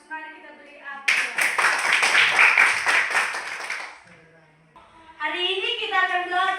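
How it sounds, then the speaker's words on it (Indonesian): Students in a classroom clap together in a lively burst of applause lasting about three seconds, with a voice speaking briefly before it and a singing or speaking voice after. "Mari kita beri aplaus."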